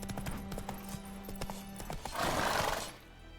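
Roach, the horse in The Witcher 3, neighs in a clear whinny after a run of steady clip-clopping hooves, heard fairly close at low overall loudness.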